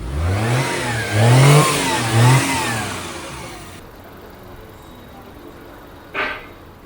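A Maruti 800 car with an LPG kit, running on petrol, revs loudly and close by with a wavering, rising and falling pitch. The engine then drops to a quiet hum, and a short thump follows near the end.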